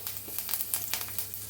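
Mustard seeds crackling in hot oil with cumin, asafoetida and curry leaves, a steady faint sizzle dotted with quick sharp pops.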